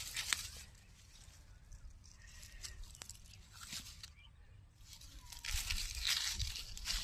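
Onions are pulled by hand from soft field soil, making faint tearing, crunching rustles as the bulbs and roots come loose, quiet and close with low background noise.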